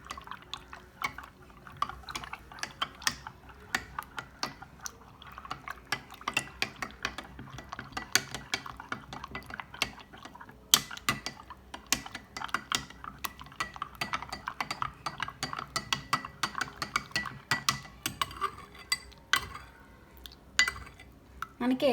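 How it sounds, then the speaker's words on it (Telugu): A spoon stirs hot boiled milk into a turmeric latte mix in a pan, giving a steady run of small scraping and clinking taps against the metal, close and fairly quiet throughout. "పాలు వేసుకున్నాక మళ్ళీ మిక్స్ చేసుకోండి"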